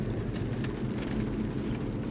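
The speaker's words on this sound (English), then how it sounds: "It's raining." Steady broadband rain wash with low road rumble inside a moving Infiniti Q50 Red Sport 400 during a rainy drive, continuous and even for the whole stretch with no talking.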